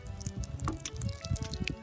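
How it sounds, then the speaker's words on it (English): Water trickles and drips onto soil where flower seeds were freshly sown, a soft, close patter of irregular splashes and wet squishes carrying on steadily. "Now we'll just gently water these in"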